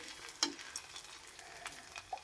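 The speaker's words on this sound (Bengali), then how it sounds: "এরপরে আমি যে 2 টুকরা আদা আছে এগুলো তেলে ভেজে নেব।" Two pieces of ginger fry in hot oil in a very hot kadai, giving a soft, steady sizzle broken by a few sharp crackles and pops.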